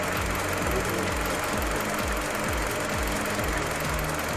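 A dirty engine runs loudly and unevenly up close, its low rhythmic thumping broken by irregular sputtering misfires over a constant mechanical clatter.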